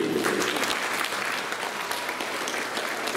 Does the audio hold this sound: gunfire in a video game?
no